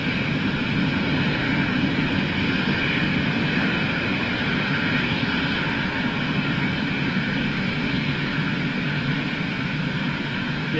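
A jet airliner operating for TAP gives off a steady, loud engine roar that holds constant throughout at close range, with no voices heard.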